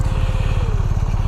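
A BMW R1250 GSA triple black motorcycle idles at a gas station stop in Raleigh, North Carolina, its engine producing a steady, close, rhythmic low thrum.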